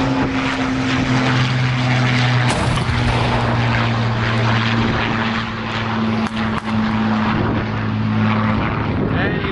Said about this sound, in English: our de Havilland Mosquito forming up with our Hawker Hurricane